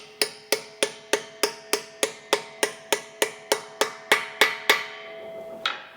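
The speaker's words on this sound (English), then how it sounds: "So we're just going to hammer this on now and get a breaker bar and get rid of it." Steady metallic hammer blows ring out as a socket is hammered onto a nut on a flood-damaged car, about fifteen evenly spaced strikes close by, ending with a final lighter tap after a pause.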